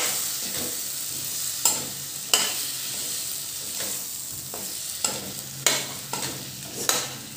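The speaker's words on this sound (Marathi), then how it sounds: "आता हे व्यवस्थित हलवून घ्यायचं. बटाट्याला सगळा मसाला व्यवस्थित लागला पाहिजे." Potatoes being stirred through masala in a pan, a steady sizzle of frying under repeated spoon scrapes and clanks against the pan, spaced irregularly across the stretch, close and moderately loud with no talking.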